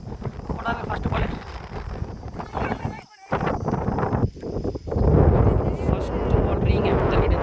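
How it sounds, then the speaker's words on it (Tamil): Strong wind blows across the microphone at an outdoor village cricket match between Kettavrapalayam and Kuyilam, a loud steady rush and buffeting that stays close throughout, with a commentator talking over it. "ஸ்ட்ரெயிட்டு பேய் காற்று அடிக்குதுங்க"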